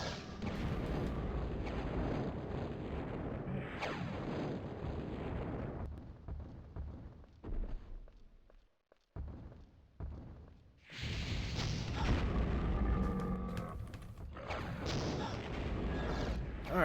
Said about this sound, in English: the rocket seems to do something, but I'm not really sure how effective the rocket is